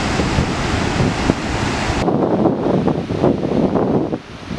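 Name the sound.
strong wind and waves at the beach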